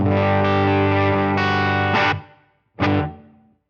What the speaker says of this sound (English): Touch of reverb.